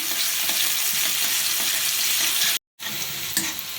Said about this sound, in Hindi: अब हम इसमें डाल देते हैं लहसुन छिले हुए और साथ ही हरी मिर्च।